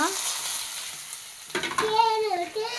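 Grated coconut with cinnamon, cloves and cardamom sautéing in hot oil for a curry, a constant close sizzle throughout, with a voice talking over it in the second half.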